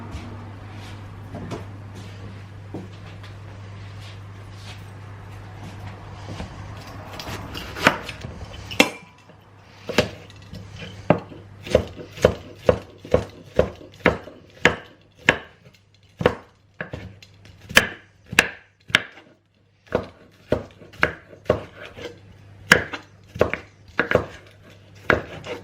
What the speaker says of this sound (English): I'm going to cut julienne some capsicum.